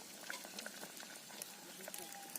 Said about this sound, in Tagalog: parang kumukulo na po yung ating pinakuloang papaya